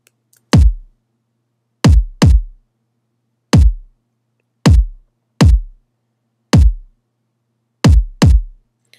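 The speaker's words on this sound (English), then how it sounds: "I have this kick, which is my main kick." Punchy electronic kick drum sample from a heavy future bass track, nine deep booming thumps in a syncopated pattern with short decays and silence between, loud and isolated.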